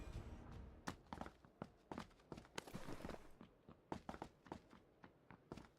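Rapid footsteps in the PUBG battle royale video game, a quick irregular run of crisp, fairly loud steps heard alone with no talk.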